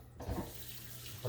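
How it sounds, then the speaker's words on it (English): Tap water runs into a sink while a bowl is rinsed out during pumpkin seed preparation, a soft steady splashing flow close by with a brief louder gush near the end, no talking. "I'll wash out this bowl."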